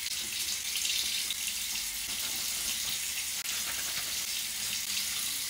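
Water from a tap runs in a steady, hissing stream as hands are washed beneath it, continuous and fairly close, with one small click partway through.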